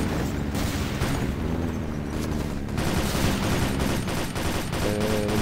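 Turret gunfire in the video game Enemy Territory: Quake Wars, a dense, continuous rattle of rapid automatic shots with booming impacts, loud and unbroken throughout.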